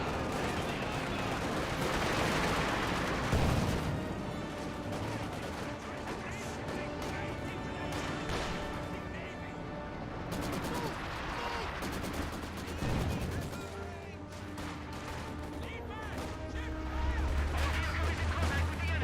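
Gunfire and explosions from a Company of Heroes 2 battle rumble continuously in a dense, layered mix of shots and blasts, with a commentator's voice running over the action.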